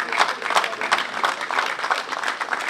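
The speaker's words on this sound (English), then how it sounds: "let's keep clapping" A conference-centre audience applauds in a dense, steady patter of many hands, with a voice talking over the clapping.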